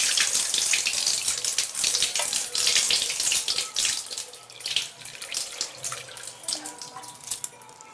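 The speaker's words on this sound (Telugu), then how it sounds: "రైస్ను ఇలాగా బాగా కలుపుకొని కడుక్కోవాలి" Rice is washed in water in a pot, with close, uneven splashing and swishing as the grains are stirred by hand, loud at first and then tapering into softer sloshes and drips.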